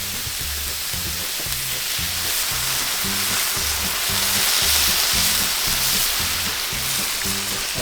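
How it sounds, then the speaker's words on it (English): Fish stock poured over paella rice in a hot pan, a loud continuous sizzle and hissing bubbling that swells slightly midway, with faint low rhythmic background sounds beneath. "We're going in with the fish stock."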